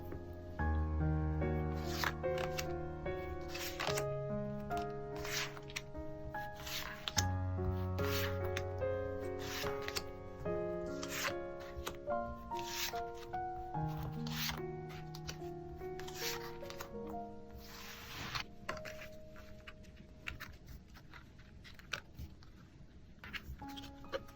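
Tarot cards being shuffled, with repeated soft riffling and sliding strokes under steady calm background music.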